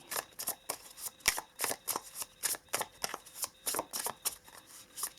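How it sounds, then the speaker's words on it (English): A deck of tarot cards being shuffled and pulled, with soft rhythmic riffling and slapping bursts repeating roughly twice a second, faint and close, with no voices. "Let us pull some cards for you."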